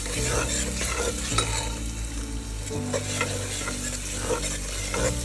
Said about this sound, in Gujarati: લસણ આદુની પેસ્ટ નાખીને મિક્સ કરશું